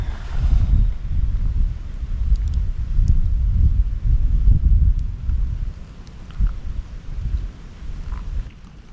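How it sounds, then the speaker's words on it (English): Wind gusting across a backcountry campsite on a chilly late-fall day, a steady low rumble and buffeting that rises and falls in loud waves, close to the microphone, with no voices. "Aside from the wind, it's actually really nice today."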